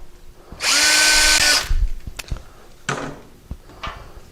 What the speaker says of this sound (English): I'm going to take a little bitty drill bit